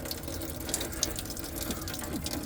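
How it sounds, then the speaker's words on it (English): Engine coolant draining from the radiator drain valve of a Silverado or Sierra pickup, a steady close trickle and splash of liquid hitting below, constant and moderately quiet. "it's draining down here, and it's splashing a bit"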